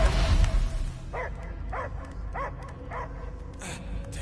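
A dog barks in short, evenly spaced yips, about five of them, over a low rumbling ambient bed inside the video game Marvel's Guardians of the Galaxy; the barks sound muffled and mid-distance.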